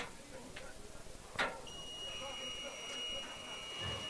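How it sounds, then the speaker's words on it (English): A long steady electronic buzzer tone from the game clock at a semi-pro football game sounds partway through and holds to the end, over arena crowd noise and faint talk. "we hear our buzzer"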